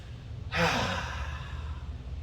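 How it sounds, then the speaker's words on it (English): One deep breath is demonstrated as a single long, airy exhale that rises suddenly and then trails off into quiet room tone. "Take some deep breaths."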